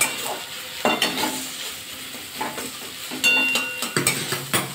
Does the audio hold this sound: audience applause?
no